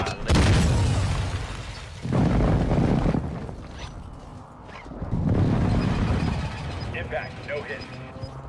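Heavy airstrike explosions in a military video game, deep booming blasts with long rumbling tails, several hits in a row, loud and close.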